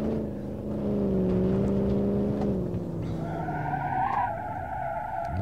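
Gavril Barstow 291 with a big heavy V8 in the driving game BeamNG.drive, a loud steady engine drone that shifts in pitch with tire skidding and squeal mixed in.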